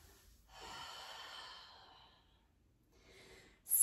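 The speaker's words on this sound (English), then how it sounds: "open mouth, exhale" A long open-mouth exhale during a yoga session, a soft breathy rush lasting over a second, then a lighter breath that fades, close and quiet.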